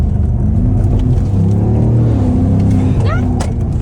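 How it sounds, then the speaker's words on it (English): A BMW M5 driven hard emits a loud, close engine roar with a prominent intake sound, rising and shifting in pitch, while people talk over it inside the car. "This car pulls so much, and the Venturi sounds amazing."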